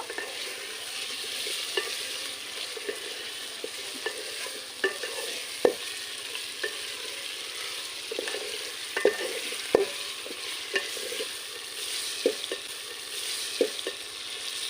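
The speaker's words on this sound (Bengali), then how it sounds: "স্বাদ মতো নুন, হলুদ গুঁড়ো, একটু নাড়াচাড়া করে নেব" Mutton stirred in a hot pan with salt and turmeric: a soft, continuous sizzle under regular, evenly spaced spatula clicks and scrapes against the pan, close by and steady throughout.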